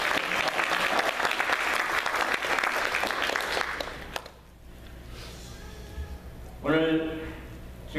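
A church congregation at a 43rd anniversary worship service gives loud, sustained applause for about four seconds. The clapping then fades, and someone speaks afterward.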